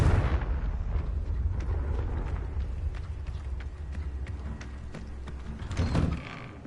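A Confringo blasting spell goes off in Hogwarts Legacy, a low rumbling blast whose deep roar fills the scene, then a second swell of rumble near the end, with no talk over it.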